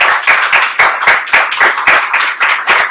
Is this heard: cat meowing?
no